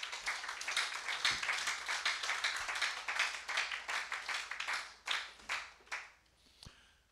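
Church congregation applauding the Lord: a dense, steady run of hand claps from many people, which thins into a few scattered, fading claps toward the end.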